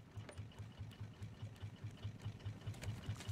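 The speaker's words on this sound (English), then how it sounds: "Right, the engine is finally full again." A boat engine in the survival video game Raft runs alone at low volume with a steady, fast, even chugging pulse and no voices.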